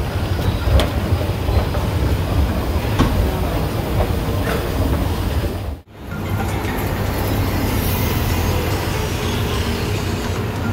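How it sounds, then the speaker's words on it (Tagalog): An MRT metro train rolls along with a loud, steady rumble and clatter that continues throughout, broken by one brief dropout near the middle. "Andito na tayo sa MRT mga anto."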